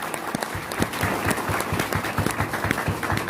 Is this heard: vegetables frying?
no